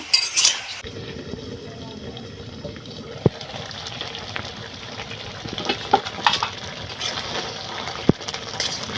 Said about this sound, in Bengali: এখন আমি বাদ বাকিগুলো আরও কিছুক্ষণ সিদ্ধ করে নিব